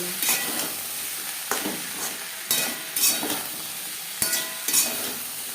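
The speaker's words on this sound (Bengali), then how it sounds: "হাই টু মিডিয়াম ফ্লেমে দু তিন মিনিট নাড়াচাড়া করে নেব" Drumstick and potato curry stirred in a pan over a high to medium flame, with a continuous sizzle broken by several distinct scraping stir strokes, close and clear.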